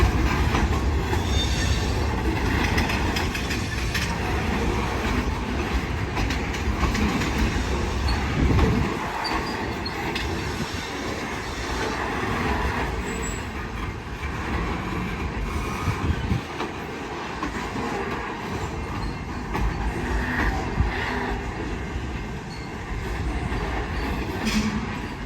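A Portland and Western KRAFT switcher freight train rolls past near Salem, giving a continuous heavy rumble with clattering wheels and occasional squeals, fairly close and steady throughout with no voices.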